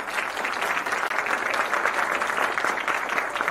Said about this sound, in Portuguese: a todos vocês, né, pelos aplausos